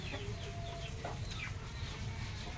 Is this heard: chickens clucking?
yes